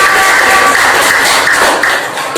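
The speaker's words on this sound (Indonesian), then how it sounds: "Tepuk tangan." A classroom of students claps for a group after a scored activity, a steady dense patter of many hands that continues throughout and eases slightly toward the end, with no talk over it.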